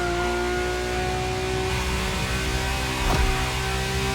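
High-revving V12 race car engine in The Crew wails steadily with a sharp, tonal note, holding pitch before a quick shift blip near the end, loud and close.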